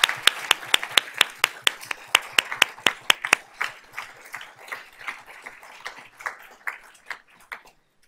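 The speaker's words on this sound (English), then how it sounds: "let's give these ladies a round of applause" Applause for a group of student award winners at a school board of trustees meeting: many sharp claps, loud at first and thinning into scattered clapping that fades out by the end.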